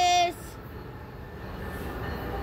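An Amtrak Northeast Regional train with a double locomotive at New Carrollton station. A short loud tone opens, then a steady rumble of moving rail cars, heard at a moderate distance.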